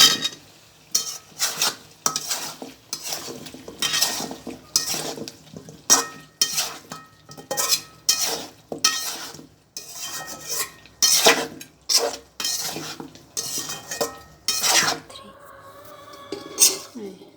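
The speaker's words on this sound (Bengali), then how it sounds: "এখন আমি আলুটা দিয়ে একটু কষাবো" Potatoes and meat are sautéed in oil in a pot, with repeated scraping and clanking strokes of a metal spoon against the pot in an uneven rhythm over a soft sizzle, and someone speaking briefly at times.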